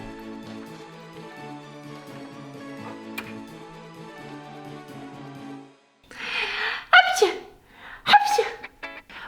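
Two sharp sneezes from a flower allergy in a Monster High hotel play scene, coming one after another after soft background music fades out, close and fairly loud.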